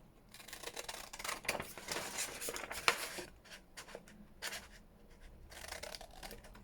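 Paper being cut with scissors while decorating pre-made ephemera, heard as a run of close, crisp snips and rustles with brief pauses between strokes, fairly quiet overall.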